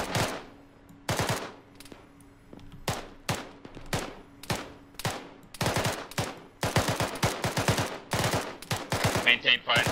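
Arma 3 military-simulation gunfire: sharp shots and rapid automatic bursts crack out in irregular volleys, loud and close, building denser toward the end, with little talk.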